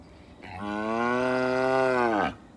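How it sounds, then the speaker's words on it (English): One weaned calf lets out a loud, sustained moo lasting nearly two seconds, up close and clear against a quiet background. "Thought that might keep them quiet for a minute, but it hasn't."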